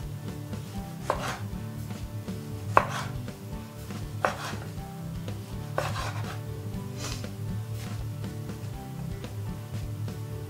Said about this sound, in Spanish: Los cortamos en gajos